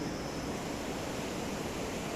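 Flood water of the swollen Purna river rushing past, a dense continuous roar heard up close with no voices over it.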